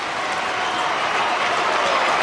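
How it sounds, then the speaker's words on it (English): Dense, sustained roar of a large stadium crowd at an AFL elimination final between GWS and Hawthorn at the showground, loud and continuous with no break for the whole stretch. "keeps this crowd roaring"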